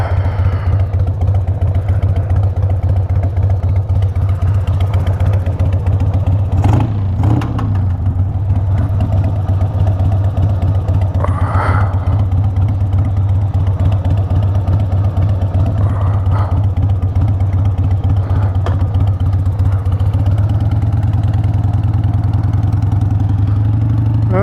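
A motorcycle engine runs steadily and loudly close by, a low droning rumble with occasional clattering and brief shifts in pitch, and no talking over it.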